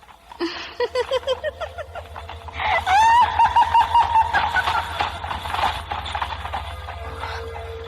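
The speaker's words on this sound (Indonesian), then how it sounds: "Aneh kereta kuda itu bisa naik sampai kemari." A horse-drawn carriage in a radio drama sound effect, with rhythmic hoof clip-clop and a horse's whinny rising over a steady low rumble, moderately loud and without speech.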